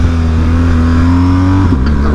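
A BMW R 1250 GS motorcycle accelerates hard in first gear with a loud, close engine drone, then jerks abruptly into second, making the pitch drop as the revs fall.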